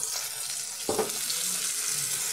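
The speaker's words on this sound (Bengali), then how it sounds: "এবার একটু জল দিয়ে আমি মশলাটা কষিয়ে দিচ্ছি।" Spice paste of ground coriander, cumin, turmeric and red chilli powder with a splash of water fries in a pan for Bengali fish curry, giving a steady hiss and sizzle with a brief louder burst of bubbling partway through.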